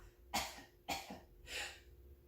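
Three short coughs in a row, close and moderately loud, each a brief rough burst with small gaps between.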